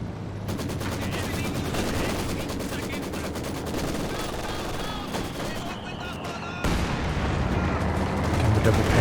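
Maxim machine gun firing in the Company of Heroes 2 battle game, dense rapid bursts of automatic fire with other gunshots and distant booms mixed in, loud and continuous.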